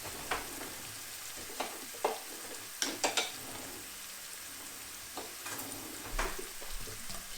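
Onions fry in a pot as the base for basmati rice, giving a steady, moderate sizzle broken by several sharp spoon scrapes and clicks as they are stirred; no voices.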